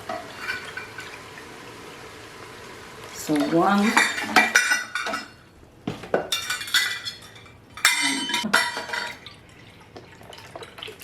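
Chicken stock being poured over washed rice and mushrooms in an Instant Pot, a splashing liquid pour with clinks of utensils and pot, after a few words from a person talking.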